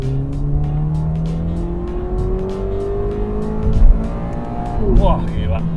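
Automatic Subaru BRZ accelerates hard from inside the cabin, the engine note climbing steadily through the revs with a shift near the end, loud and continuous.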